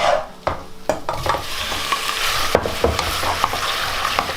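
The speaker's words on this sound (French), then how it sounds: "Et maintenant on va rajouter les tomates." Loud, close sizzling as tomatoes are added to a hot saucepan for fajitas, food being stirred and scraped around as it fries.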